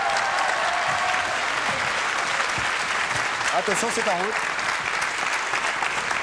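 A TV studio audience claps in a sustained, dense burst of applause, loud and continuous, while someone speaks briefly over it and someone whistles partway through.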